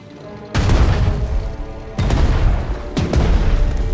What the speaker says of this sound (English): select the tank and attack the anti-aircraft gun defending the airfield